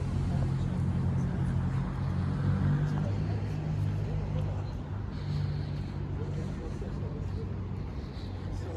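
Road traffic in Monaco rumbles steadily as cars and buses pass along a street, a continuous mid-distance roar with people talking over it.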